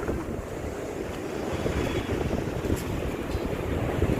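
Steady wind roars into the microphone over continuous crashing surf at Porbandar Chowpatty beach, Gujarat, a loud, unbroken seaside wash with no voices.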